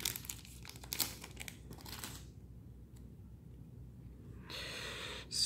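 Crinkly foil wrapper of a Yu-Gi-Oh Legendary Duelist: Synchro Storm booster pack crackles and rips in close bursts, then a quiet pause, then another short tearing crinkle.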